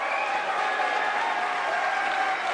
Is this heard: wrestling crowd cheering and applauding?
yes